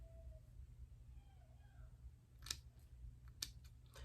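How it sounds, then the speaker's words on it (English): Scissors snip through the lace of a straight human-hair wig in a few short, sharp cuts, heard close and quiet over a low steady hum, with no talking. "I am just cutting it with scissors"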